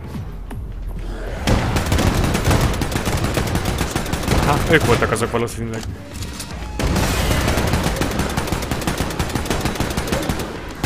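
Bursts of gunfire from Wolfenstein II, dense automatic shots and bangs packed together across most of the stretch, with a brief lull before firing resumes; someone speaks over the shooting.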